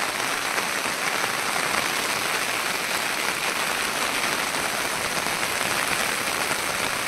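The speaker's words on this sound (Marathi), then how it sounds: "इकडे कोकणात आहे ना पाऊस चालू आहे, सकाळपासून पाऊस चालू आहे" Steady rain falls in Konkan during Ganesh festival time, a dense, even hiss of drops striking surfaces nearby, continuous and unbroken with no voices.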